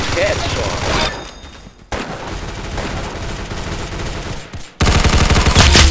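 Rapid gunfire from a Roblox Arsenal mobile match comes in loud, dense bursts with brief pauses between them. Game sounds and voices mix in.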